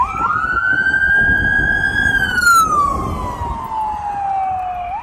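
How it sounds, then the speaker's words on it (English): An ambulance siren wails past near a golf course in Nassau, Bahamas, one loud rising-then-falling sweep that drops in pitch as the vehicle goes by, with road noise underneath. "An ambulance passing."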